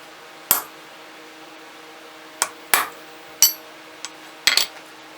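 A hammer drives a punch into the blade of a forged German messer sword: six sharp, ringing metallic strikes, close and loud, spaced irregularly with quiet gaps between them.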